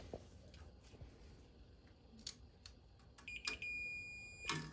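A multimeter beeps during a continuity check on a Burnham IN5 gas steam boiler's faulty roll-out switch. A steady high tone sounds briefly near the end, preceded by clicks and handling noise in a quiet room.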